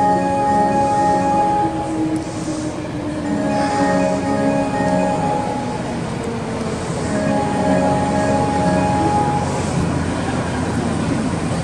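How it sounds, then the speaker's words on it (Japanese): A renewed Kyoto subway 10 series train bound for Takeda rolls into Kitayama Station with a steady mechanical rumble and whining tonal hum, loud and continuous, with no voices. "まもなく一番乗り場に武田行きが参ります。"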